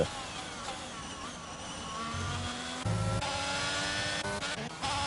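Race cars in an F1 video game at the Miami round, engines whining and revving at high pitch with shifting tones, a sudden low thump partway through and bursts of accelerating, quite faint under the overall mix.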